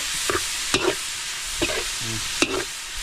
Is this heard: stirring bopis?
yes